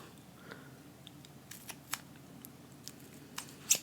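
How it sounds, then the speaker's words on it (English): Scissors snipping through ribbon for a recycled Christmas card craft, a few sparse, crisp cuts spread over a quiet background, with the sharpest snip near the end. "I'm going to cut my ribbon"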